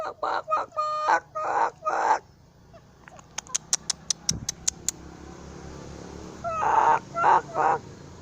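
Hens cluck in short repeated bursts while eating boiled eggs, with a run of sharp pecking clicks in between and more clucking afterward.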